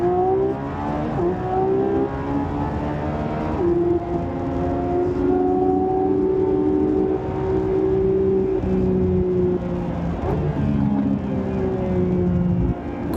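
Inside a Lamborghini Revuelto in Corsa Performance mode, its 1,000-plus horsepower engine rises and falls through loud, continuous revs and upshifts, slightly clipped and with no talking.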